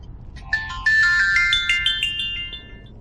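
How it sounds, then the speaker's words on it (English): A timer alarm plays a bright, rising electronic ringtone melody of quick chiming notes, loud and close, over a steady low background hum. "I have to turn the sound off on my timer"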